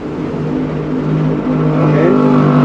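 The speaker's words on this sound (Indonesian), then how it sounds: "Ini digas ngampos teman-teman" A motorcycle engine revving steadily and loudly after being started during cold-weather ECU tuning, running lean and bogging under throttle with a continuous droning rumble and no talk.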